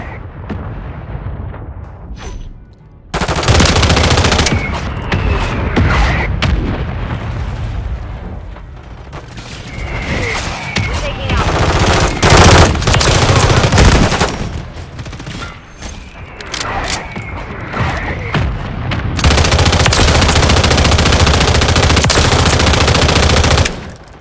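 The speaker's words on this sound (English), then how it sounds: "Mortar strike inbound." A mortar strike and gunfire in a Call of Duty multiplayer match: loud, dense bursts of rapid fire and heavy booms that carry on almost without a break, with game sounds shifting throughout.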